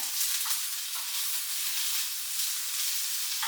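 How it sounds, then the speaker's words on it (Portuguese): Vegetables for a vegetarian couscous sautéing in a frying pan, a loud, continuous hiss and sizzle of frying with occasional soft stirring movements, close and steady throughout. "o que eu vou fazer é saltear, de maneira que possam alourar aqui um bocadinho mais na frigideira"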